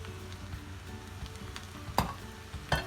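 Paneer fried rice sizzles steadily in a hot pan as chopped spring onion greens go in, with a soft continuous crackle and two sharper clinks of a utensil near the end.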